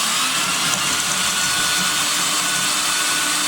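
Power drill driving a screw into a wall stud while mounting a full-motion tilt swivel TV bracket, a steady loud whining motor drone that runs unbroken and close throughout.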